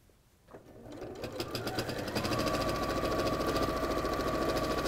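A sewing machine without a walking foot stitches through several layers of an autumn quilt panel with polyester craft wadding. It starts quietly, then settles into a loud, rapid, steady whirring rhythm with occasional clonks, and no one speaks.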